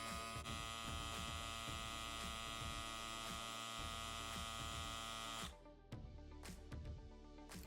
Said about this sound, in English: Push the power button again to start airing up the tire.